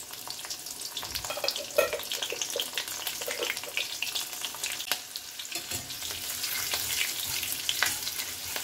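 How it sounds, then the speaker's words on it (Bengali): Black cumin seeds and chopped green chillies hit hot oil in a pan for a pomfret mustard-poppy curry, giving a steady, close, crackling sizzle with bright spattering pops throughout and no talking. "তেল গরম হয়ে গেছে, কালো জিরে আর কাঁচা লঙ্কা দিয়ে দেবো"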